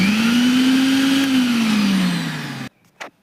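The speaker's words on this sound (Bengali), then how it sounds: "এইভাবে ভালো করে বেটে নিতে হবে মিক্সিতে ফেলে" A mixer grinder whirs loudly as it grinds prawns, its motor pitch rising slightly and then sagging before it cuts off abruptly, followed by a short clunk in the quiet.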